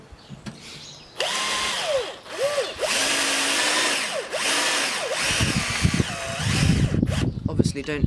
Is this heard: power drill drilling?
yes